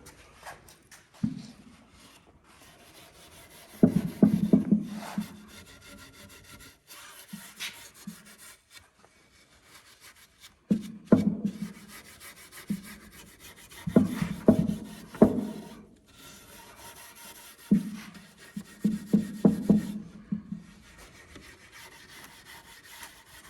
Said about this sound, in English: Then you remove whatever is left of the stain. With the sandpaper, you remove it.